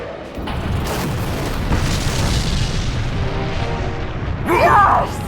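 A massive explosion from a direct hit on a mothership's generator bank booms through a sustained, loud roar of rumbling blasts, with a brighter crackling burst near the end.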